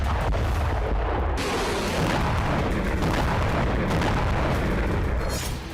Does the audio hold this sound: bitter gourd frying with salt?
no